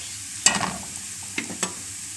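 Garlic cloves and coriander being stirred with a utensil in a hot pan of frying vegetables for moussaka, with a steady low sizzle broken by a few scraping stir strokes.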